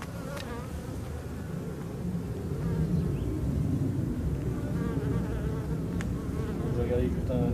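Honeybees buzz steadily in an open hive during a brood frame inspection, a dense continuous drone that swells slightly partway through and holds close and even, with no talking.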